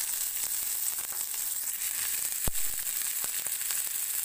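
Onion and green chili sauté in a pan with a steady, soft sizzle and occasional faint stirring clicks, close and alone without talk.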